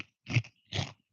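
A crunchy fried snack is bitten twice, giving two sharp, close crunches separated by a short pause.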